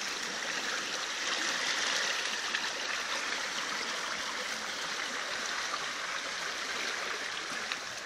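A river flows with a steady, hissing rush of water, moderately distant and constant, with no voices over it.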